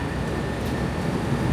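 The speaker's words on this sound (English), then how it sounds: "so I'm taking the train again." A Chicago commuter train rumbles steadily, a broad low roar of rail travel heard from on board, continuous and fairly loud.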